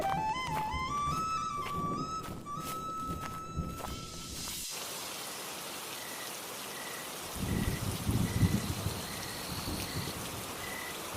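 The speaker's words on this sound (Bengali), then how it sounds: "আবার কি জোরে বৃষ্টি শুরু হলো" Heavy rain pours steadily in a dense broadband hiss, following a short passage of music, with a few louder thuds of drops and footsteps partway through, and no one speaking.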